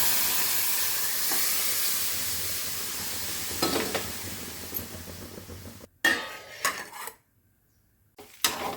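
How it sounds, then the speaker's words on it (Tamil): Rasam liquid hits a hot pan and sizzles with a steady hiss, followed by brief bursts of clattering and stirring with quiet gaps between. "கரைச்சி வச்ச ரசத்தை எடுத்து ஊற்றிக்கிறேன்"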